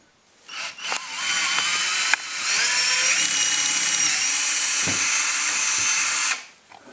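A power drill whirs steadily while driving screws into a wooden jewellery display frame, with short clicks and bumps before one long loud sustained run that stops abruptly.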